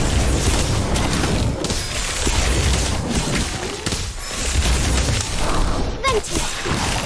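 A fire spell being cast in the Harry Potter Magic Awakened video game, booming blasts and crackling bursts over a dense, continuous wash of battle noise, with a sharp spike near the end.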